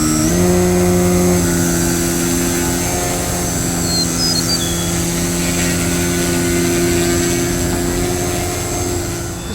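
An Addiction X RC model plane holds a steady, loud engine drone while flying a rolling Harrier, the pitch shifting slightly early on before settling into a continuous hum that fades a little at the end.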